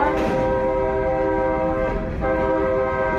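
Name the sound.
train rolling along tracks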